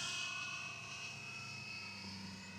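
A Fly Wing EC135 RC scale model helicopter flies nearby with a steady, high electric whine and a whirring rotor, heard at moderate level without talk.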